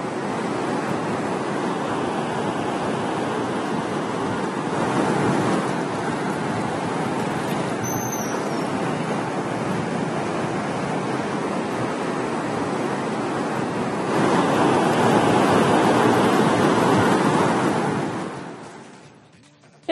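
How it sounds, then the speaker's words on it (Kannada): The Vedavathi river near Chitradurga runs full after heavy rain, giving a continuous loud rushing roar that swells midway, then fades out at the end, with no voices. "ವೇದಾವತಿ ನದಿ ಕೂಡ ತುಂಬಿ ಹರಿತಾ ಇದೆ"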